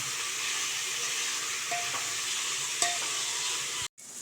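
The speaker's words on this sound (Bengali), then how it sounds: "নুন দিয়ে পেঁয়াজটাকে ভাজলে পেঁয়াজটা তাড়াতাড়ি গোল্ডেন ব্রাউন কালারের হয়ে যাবে।" Onions frying with salt in a pan for a mutton curry masala give a steady, close sizzle with faint stirring scrapes, continuous and moderately loud, breaking off briefly near the end.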